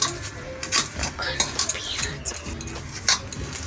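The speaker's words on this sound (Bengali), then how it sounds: "একসাথে ভালোভাবে মেখে নেব।" Fish pakora ingredients for Mourala fish, crushed dried chilli and salt, being mixed together by hand in a bowl, with soft irregular squelching and clinking contact sounds close up, no talking.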